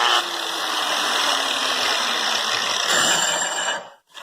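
An angle grinder fitted with a HERZO dust shroud runs steadily with a loud, continuous motor whine and airy hiss up close, then cuts off abruptly near the end; no talking.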